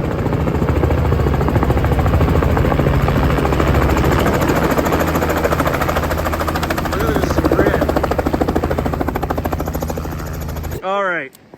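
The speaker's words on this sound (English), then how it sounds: "these guys are taking their first helicopter rides too, so Beth is going to be excited." A helicopter flies steadily and loudly close by with a continuous rotor and engine roar, carrying first-time riders at a gold mining site, and it cuts off abruptly near the end as a brief chirping sound follows.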